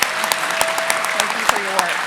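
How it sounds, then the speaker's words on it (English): Audience applause at the 2023 Helen Keller Prize ceremony for the laureates, a steady clatter of many hands with sharper claps standing out, a faint voice tone threading through beneath. "Another round of applause for our 2023 Helen Keller Laureates."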